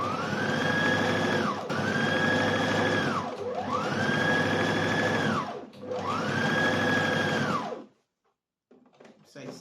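A sewing machine runs a gathering line of stitches on fabric, a loud close motor whine in three long runs that rise and fall in pitch with short pauses between, ending in near silence.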